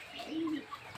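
A single low, soft coo from a bird at a Kenyan poultry farm, heard close by over quiet outdoor background with no talking.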